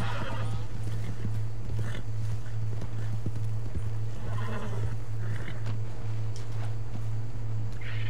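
In the video game Red Dead Redemption 2, hooves clop steadily at a gallop while a horse neighs a few times over a constant low hum and background noise.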